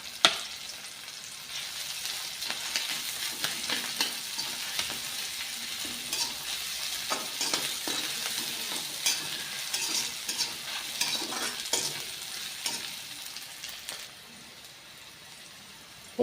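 Ginger garlic paste fries in a pan for Assamese cooking, with a steady close sizzle and scraping stir strokes for about fourteen seconds before the sizzle softens near the end. No one speaks.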